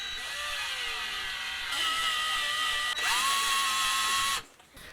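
A power tool whirs steadily as the neck is bolted onto a Pango Razorback PDR-057 guitar kit, its pitch shifting as the load changes, then stopping abruptly near the end.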